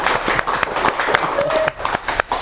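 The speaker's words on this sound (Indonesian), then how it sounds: "tepuk tangan dulu," Audience clapping at a live talk show event, a burst of steady applause with scattered sharp claps and crowd noise, fairly loud and close, fading slightly toward the end.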